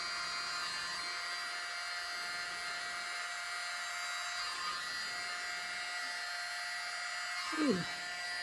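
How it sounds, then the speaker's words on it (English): A mini blower runs over an acrylic paint pour mixed with oxide black, Floetrol and cell activator, giving a steady, close, buzzing whir. A brief louder swell comes near the end. "I'm going to use my mini blower."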